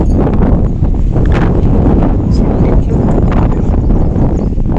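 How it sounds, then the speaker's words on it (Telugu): Loud, constant wind roars and buffets against the microphone, with some rustling mixed in and no clear speech. "గాలి అయితే బాగా వస్తుంది"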